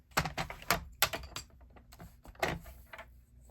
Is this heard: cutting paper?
yes